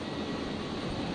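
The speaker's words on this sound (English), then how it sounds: "Virgin 951 there, just touched down from Sydney" A Virgin Boeing 737-700 jet touching down after a flight from Sydney, a faint, steady broadband engine roar heard from a distance and without talk.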